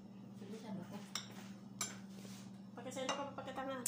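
Teaspoon clinking against dishes at an Indonesian meal of sambal terasi, producing a few sharp metallic clinks scattered through the clip beneath people talking nearby.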